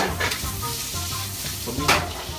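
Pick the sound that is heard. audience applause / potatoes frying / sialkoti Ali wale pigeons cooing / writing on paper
potatoes frying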